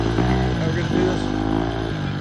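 Nitro RC car engine revving hard, a loud buzzing whine rising and falling close by, with people talking over it.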